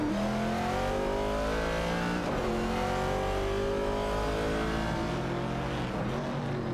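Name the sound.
Ford Falcon and Ford Mustang Boss race car engines, racing video game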